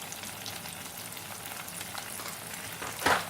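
Sindhi-style egg bhurji with coriander powder, red chilli powder, salt and turmeric frying in a pan, giving a steady close sizzle throughout with a brief louder scrape of stirring near the end; no one speaks.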